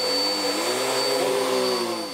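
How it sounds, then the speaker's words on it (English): Vacuum cleaner sucking up carpet deodorizer from a carpet, a loud steady whine with a rising pitch sweep, running continuously and alone throughout. "now it's time to vacuum up the carpet deodorizer"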